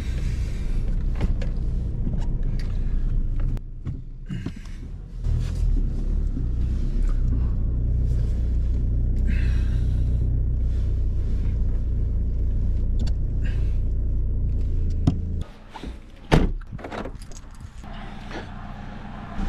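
A van's engine idles after being started with the ignition key, a steady low rumble running loud and close for most of the stretch before cutting out, with a few clicks and knocks near the end.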